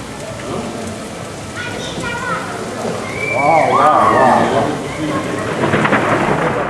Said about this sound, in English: While waiting for that information, a thunderstorm came.